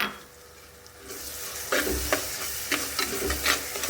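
Ginger, garlic and green chili paste sizzles in a pan, starting quiet, then bursting into loud crackling frying with stirring scrapes and spits, close up, no talk.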